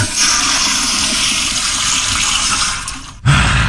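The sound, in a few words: power flusher toilet flushing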